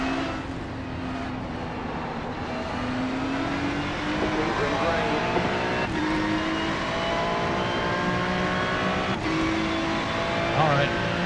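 Ferrari Challenge race cars in a racing video game, their engines droning steadily and close with rising and falling revs and gear shifts, while a person talks over the engine noise.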